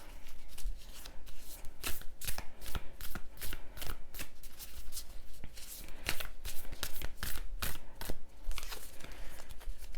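Tarot cards shuffled by hand, a rapid run of crisp riffling bursts close up with no talking.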